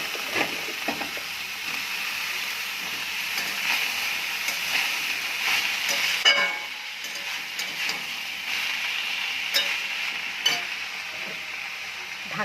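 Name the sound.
stir-frying mashed banana flower with fried potatoes in pan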